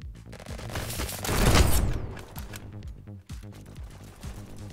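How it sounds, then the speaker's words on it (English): Shotgun firing in a first-person shooter game: one loud swelling blast near the middle, then a series of sharp lighter clicks and shots at an uneven pace, with no voices. "What is this gun? That's a shotgun."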